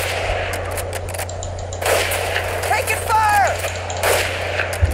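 Gunfire in the World War II shooter Medal of Honor: Pacific Assault, with several loud bursts of shots over a steady low hum of game ambience and a brief rising whine partway through.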